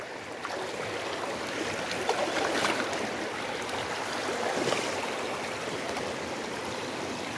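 Water flows steadily at a small dam on a stream, a broad continuous rushing wash with occasional louder splashing surges, close and unbroken, with no voices.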